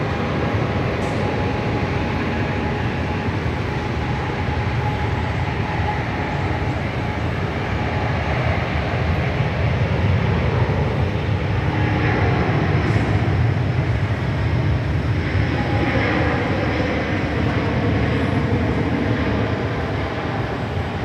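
Thai Airways flight 476 taking off at Sydney Airport, a loud steady jet engine roar heard from a distance, holding constant throughout with no talking.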